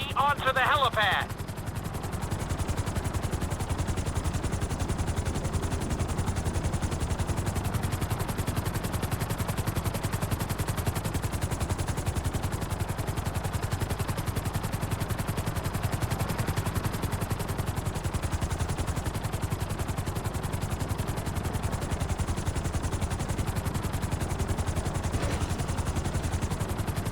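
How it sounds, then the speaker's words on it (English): A helicopter in GTA 5 descends onto a helipad, its rotor producing a continuous, dense, pulsing drone that fills the whole stretch at an even level after a brief higher-pitched sound at the start. "Bring the helicopter down gently onto the helipad."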